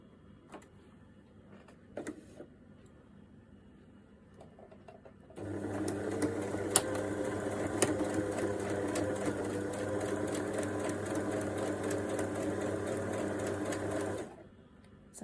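A sewing machine stitches the seams of a floppy reversible fabric bucket hat. After a quiet start with a few faint taps, it runs in a steady, close, whirring hum for about nine seconds and then stops.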